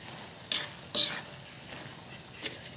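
Raisins stirred into sizzling ground pork giniling, a faint low sizzle broken by two short bright scraping clatters of the spoon near the start and a lighter one near the end.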